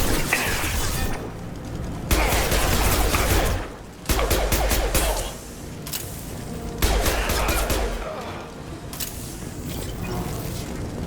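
Automatic gunfire in Mass Effect 2 as Blue Suns and Vorcha shoot, sustained loud bursts of rapid shots broken by short pauses, with heavy low booms and mechanical clatter.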